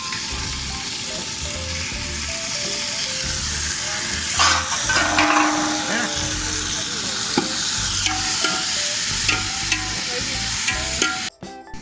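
Chicken mixed with turmeric being stirred in a pot, a steady sizzling scrape that runs the whole time with occasional clinks of the spoon, close and fairly loud, then cutting out at the end.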